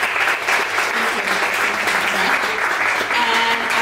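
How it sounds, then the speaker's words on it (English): Audience at a 1 Million Cups startup event in Dallas applauding, dense sustained clapping from a room full of people, loud and steady from start to finish. "So if we could give a round of applause, that'd be great right now."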